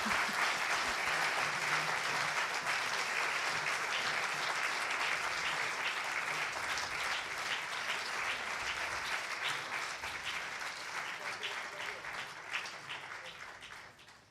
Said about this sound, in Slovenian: Pa en aplavz za ozadje